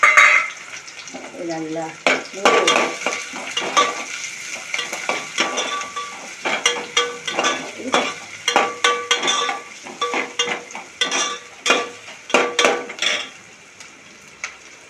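Chopped onion frying in oil in a pan for a fish mitta kulambu, giving a steady sizzling hiss broken by frequent scraping and clinking stirs, with a brief spoken word near the start.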